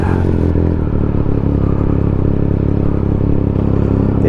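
A Triumph Speed Triple RS fitted with an Austin Racing exhaust runs loud and close, a dense, throbbing engine roar held steady for a few seconds.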